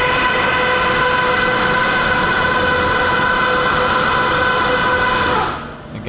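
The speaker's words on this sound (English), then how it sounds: "It's indexing to a new position so that we can clean the face." A CNC machine runs steadily with a loud, sustained mechanical whine and layered tonal hum while the spindle indexes to a new position, then cuts off abruptly near the end, leaving a quieter tail.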